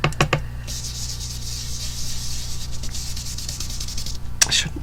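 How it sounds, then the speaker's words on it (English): Ink being rubbed over a papercraft cauldron on a craft mat, giving a steady, close scratchy rubbing that runs for several seconds, with a few sharper strokes at the start and near the end. "I'm going to rub a little bit over the cauldron as well"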